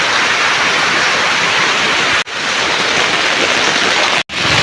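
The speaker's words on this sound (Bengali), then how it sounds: "আজকে তো পুরা বৃষ্টি নামছে, পুরা বৃষ্টি করতেছে।" Heavy rain pouring outside in Siliguri during flooding, a dense, loud, continuous roar of falling water with two brief dropouts and no voices.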